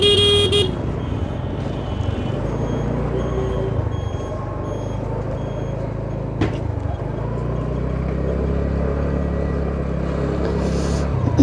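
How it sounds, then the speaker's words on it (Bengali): A motorbike horn gives a short toot at the start over steady engine and road noise as the bike rides along an Eid-day road, then the engine drone carries on. "আমি একটু হর্ন দিলাম"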